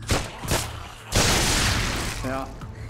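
Targets blowing up in the Dead Ground Arena VR shooter game, several booming blasts and shattering bursts in quick succession, loud and close, with a hum underneath and a voice briefly talking toward the end.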